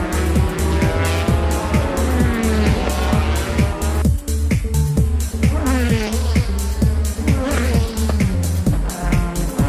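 JGTC GT race cars, including a Nissan Z with a VQ30DETT engine, roar past on a circuit with loud, continuous engine revs, repeated gear shifts and tire squeal, under a commentator's voice.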